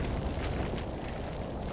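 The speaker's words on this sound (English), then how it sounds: "I think the explosion earlier was a ammo cook-off" Ammo cook-off explosion in the Combat Mission Final Blitzkrieg wargame, a continuous low rumbling roar with crackling bursts, steady and fairly loud throughout with no speech.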